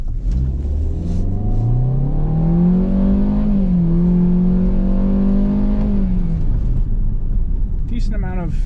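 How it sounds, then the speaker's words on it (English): A 2022 Hyundai Venue SEL speeds up with a rising engine tone that climbs and levels off, then winds down as the car brakes to a stop, heard from inside the cabin with a steady road rumble underneath. "We'll test out the acceleration as well as the stopping power. So we'll come to a complete stop."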